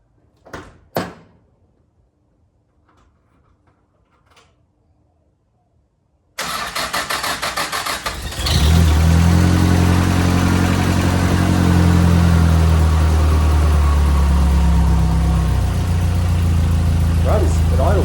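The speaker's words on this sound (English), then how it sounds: "So motor's coming out again, but it runs, it idles." A rebuilt car engine cranks and catches after a door thud and quiet handling noises, then settles into a loud, steady idle close by.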